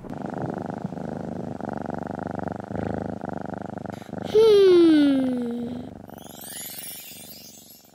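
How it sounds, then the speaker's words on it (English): A cartoon cat purrs steadily against busy background noise, then a loud rising-falling meow-like cry cuts in midway and fades out. "there's a cat."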